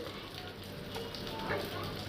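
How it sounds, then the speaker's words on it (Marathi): Garlic and cumin frying in a little hot oil for a tempering, giving a soft, steady sizzle that stays faint and low throughout. "थोड्याशा तेलामध्ये लसूण आणि जिरे सुरुवातीला थोडं परतून घ्यायचं"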